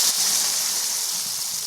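Water pours into a hot kadai of spiced curry during village-style cooking, a steady close hiss and gush that holds evenly for under two seconds.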